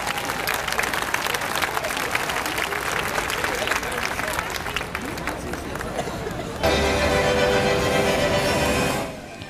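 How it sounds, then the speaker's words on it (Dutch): An outdoor crowd applauds at a festive breakfast on the Dam in Amsterdam, a loud steady wash of clapping and cheering with babble, shifting to a brighter, louder crowd roar near the end before fading. "Een applaus voor Altijd."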